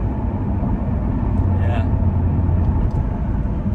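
Low, rumbling exhaust burble from a BMW F13 M6 engine, heard steadily from inside the car, with someone talking over it.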